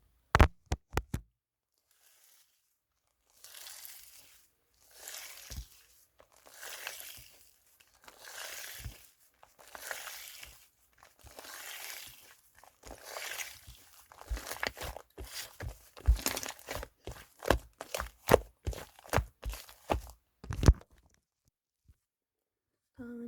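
Sticky, crackling pops and snaps from bubbly slime being pulled apart repeat in bursts, growing faster and denser toward the end, close up with no talking.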